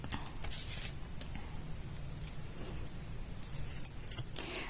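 Scissors snip and cut through paper in a close craft setting while coffee paints are made, a steady run of crisp cuts with a louder cluster near the end, no talking.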